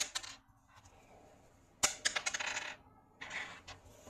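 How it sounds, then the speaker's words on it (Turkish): Dice rolled during a board game tutorial clatter onto the table in two bursts of sharp rattling clicks, one long and one shorter, with a small click just before. The sound is fairly quiet and no one speaks. "Ve sonraki tur için zar atılır."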